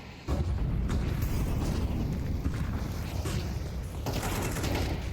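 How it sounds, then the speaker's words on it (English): Gunfire in a professional Counter-Strike match between EYEBALLERS and FaZe, a dense continuous barrage of rifle shots and a sniper rifle blast, loud and rapid throughout after a sudden start, with game sounds under a faint commentator voice. "Brokey's AWP firing off for 1. Frozen hot on the trigger with the M4"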